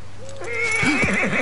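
A horse whinnies close by, a rising then wavering neigh that begins softly and swells into a loud, quavering call over about a second, with no talk over it.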